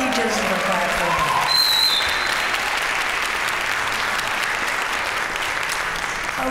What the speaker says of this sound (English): I think he deserves a clap for that